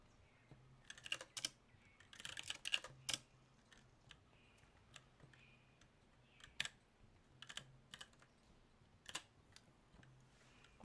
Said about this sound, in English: It was a ton of typing to avoid typing like 20 characters.